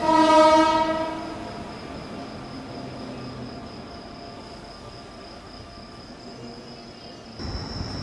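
A WAP-7 electric locomotive from Ajni shed sounds a loud horn and then rushes past at speed, a sustained rumbling roar with a faint high whine that cuts off abruptly near the end.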